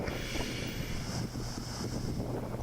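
Wind-driven waves crash over a seawall as Hurricane Irma approaches, a steady loud roar of surf and gusting wind buffeting the microphone without pause.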